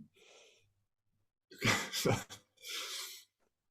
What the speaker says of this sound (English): Let's join this Zoom call and cough together.